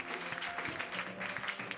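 A church congregation at a French-language sermon claps and cheers together, giving a short burst of dense, close applause.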